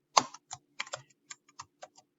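Sparse keystrokes tap on a computer keyboard, about ten distinct close clicks in an uneven rhythm over two seconds, with no talking.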